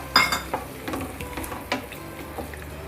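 Curd stirred and roasted in a pan over a low-to-medium flame for sev tamatar sabzi, with spoon scrapes and light sizzling in uneven strokes, close and fairly quiet, no talking.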